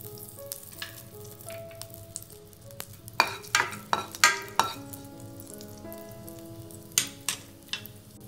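Cumin seeds dropped into hot ghee in a pan, crackling and sizzling quietly with a burst of sharp pops and spatters in the middle and again near the end.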